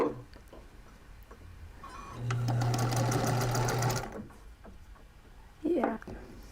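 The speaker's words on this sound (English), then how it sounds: "All right, this time I'm gonna sew on this other side" A sewing machine stitches fabric in one loud, steady burst of rapid running for about two seconds, with quieter handling sounds before and after and brief speech near the end.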